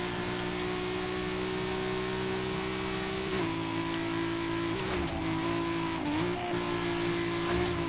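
A Forza Horizon 5 car engine holds a high, steady rev near its limit, a sustained whining drone that dips briefly a few times as gears shift, with no talking.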